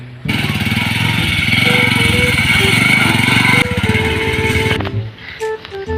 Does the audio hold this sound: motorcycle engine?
yes